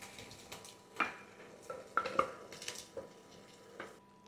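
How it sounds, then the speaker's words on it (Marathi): Ground masala paste is added to onions frying in oil and stirred, with soft squelching and sizzle punctuated by several sharp metallic clinks of a spoon against the pan. "आता हे जे वाटण तयार केलं हे वाटण घालूया"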